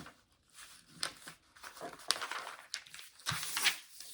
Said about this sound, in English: let me fold this paper so you guys can see better